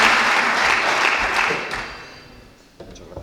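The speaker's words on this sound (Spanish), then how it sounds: "le recibimos con un fuerte aplauso" Audience at an annual conference applauding to welcome a speaker, loud dense clapping that tapers off gradually and dies out, leaving a few scattered sounds.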